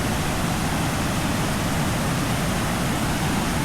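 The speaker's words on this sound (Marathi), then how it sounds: "दोन नद्या एकत्र होतात आणि हा पूर्ण पाणी खाली जातो" Floodwater from two rain-swollen rivers rushes where they meet in Konkan during heavy rain, making a loud, dense, unbroken roar from start to finish.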